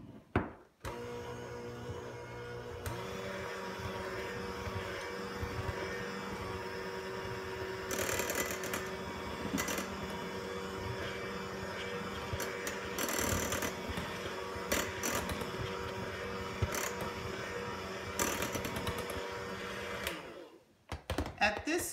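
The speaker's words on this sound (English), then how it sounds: "And continue to mix, because right now it's not all incorporated." Electric hand mixer beating chocolate cheesecake filling for a no-bake pie, a steady close whirring drone that runs continuously with small rises in pitch and load, and faint talk in the background.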